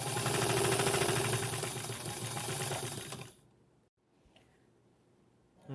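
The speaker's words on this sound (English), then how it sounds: "And now I'm just going to stitch it down." Fast, even mechanical chatter of a sewing machine stitching binding along the bottom of a quilted tree skirt, running for about three seconds before stopping abruptly into near silence.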